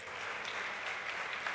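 Audience applause in a French-language studio show, a brief, even burst of clapping heard at a soft, slightly distant level without pause.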